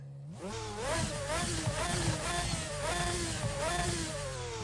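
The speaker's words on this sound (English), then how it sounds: "So here we are inside our Lamborghini GT1 car. Let's give it a quick rev." Lamborghini GT1 race car engine revved from inside the cockpit, a loud, close roar that climbs and falls in several repeated blips with no talk.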